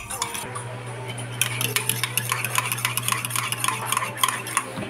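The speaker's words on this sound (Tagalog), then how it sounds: "ito ay stir natin hanggang sa matunaw yung ating sugar." A spoon stirs sugar into a mug of mug-cake batter, clinking steadily against the ceramic in quick repeated taps over a low steady hum, close and fairly loud with no talking.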